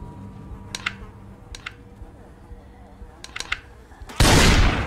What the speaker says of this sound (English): Nice shot. Nice shooting, Tex.